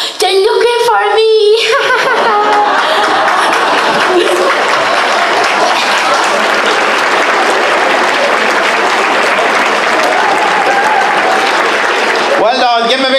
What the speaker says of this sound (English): give him a big round of applause, Peter and Abby.